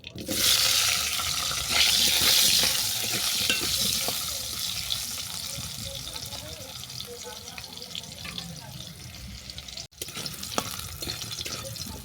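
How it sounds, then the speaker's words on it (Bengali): Oil hisses and crackles steadily as potatoes fry in a pan, louder at first and easing slightly, with occasional clinks of a utensil. "এই তেলের মধ্যেই আলু ভেজে নেব।"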